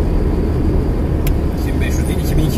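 A 1998 Mazda Lantis cruising in fifth gear at about 80 km/h and roughly 2250 rpm, a steady low engine drone mixed with road rumble heard from inside the cabin while someone talks over it.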